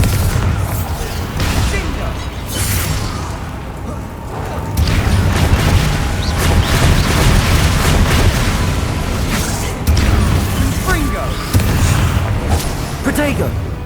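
Bombarda blasting-spell explosions in the video game Hogwarts Legacy, repeated loud booms and crackling bursts through a chaotic fight, with voices talking and shouting over them.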